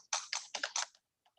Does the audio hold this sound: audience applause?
no